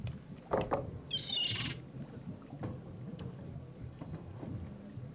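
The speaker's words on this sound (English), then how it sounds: "I think that bird'll peck my hand off." Bird calls in The Secret of Monkey Island game, a short bright screeching squawk burst near the start, standing out over a low steady game background with no talk.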